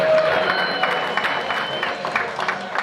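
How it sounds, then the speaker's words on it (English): An audience at a Dancing With The Belmont Stars dance competition claps for a couple of dancers, a brief burst of scattered applause with a sustained tone and some voices underneath. "big round of applause for Joanna and Anneke"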